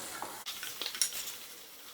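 Roughly chopped tomato, crushed cashews and green chili cook in a pan over medium heat, giving a faint soft sizzle with a few light stirring scrapes and clinks, no voices.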